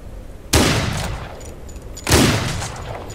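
Two loud, close gunshots roughly a second and a half apart, each with a sharp crack and a long rumbling tail, during a shootout in the Wild West game Outlaws of the Old West.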